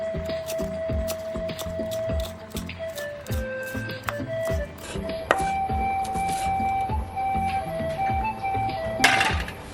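Quick, repeated knife chops through fresh herbs on a cutting board, close by, in a steady run of sharp taps with a faint tonal melody playing underneath.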